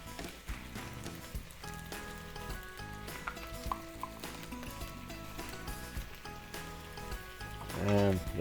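Garlic sizzles and crackles in a hot pan while it is stirred, a steady close frying hiss with scraping stir sounds, ending in a brief louder rustle.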